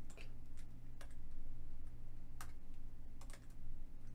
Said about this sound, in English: I'll make sure to actually be very deliberate while I'm typing this time.